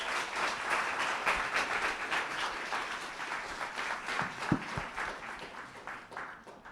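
Audience applause filling a room at the close of a lightning talk session at a conference, a steady wash of many hands clapping with no speech over it.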